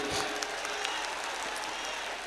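Mushaira crowd at a Saajhi Virasat poetry event clapping in a continuous, even wash of many hands, moderately loud and sustained, with no voices over it.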